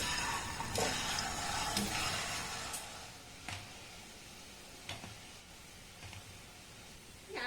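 Palm fruit sweets frying in hot oil make a faint, soft bubbling sizzle, with a few sharp clicks and taps of utensils at intervals in an otherwise quiet kitchen.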